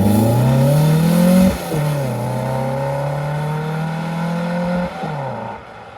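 A Volkswagen Beetle with a 2.2-litre engine roars close by at speed, its pitch dropping as it passes, then holds a steady drone before easing off.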